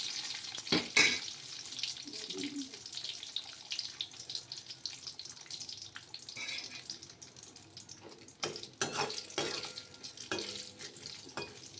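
Grated coconut roasting in a pan for a dal gadduri vegetable dish, a soft continuous sizzle and scrape with occasional louder stirring clatters, close and steady, no voices.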